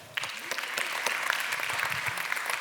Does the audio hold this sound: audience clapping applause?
yes